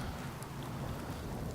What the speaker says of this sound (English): So does the rain never stop here?